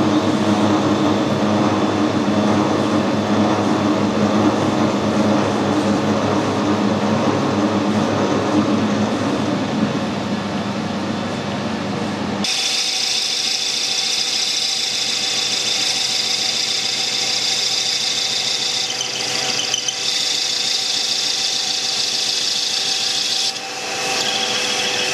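A gear-cutting machine cuts a Tufnell gear, with a loud, continuous mechanical grinding and rasping that shifts abruptly midway to a thinner, higher-pitched machining whine and runs without speech.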